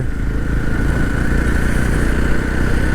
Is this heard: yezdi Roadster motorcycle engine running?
yes